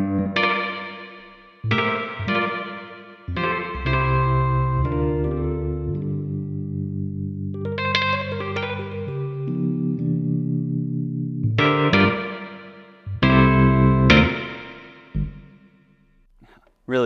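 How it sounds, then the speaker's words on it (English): A Nord Grand 2 electric piano with a spring reverb plays chords and single notes in bursts. Each note rings with a shimmering, washy tail that fades between phrases. It is loud and close, with no talking over it. "We now have a spring reverb, which sounds really beautiful."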